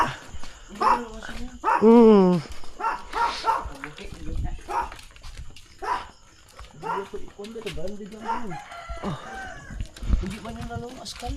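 A Pomeranian barks and whimpers in a few sharp, close yips amid lively talking from several people outdoors, with a rooster faintly heard in the background.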